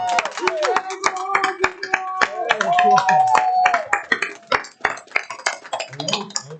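An audience at an RITSEC student security club meeting claps in a sharp, rhythmic burst, hands striking in quick unison beats while people talk and a voice rings out over the clapping.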